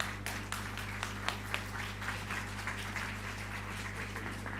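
A conference audience claps after a talk, a steady wash of many hands with a few sharper individual claps standing out, moderately loud over a low hum in the hall.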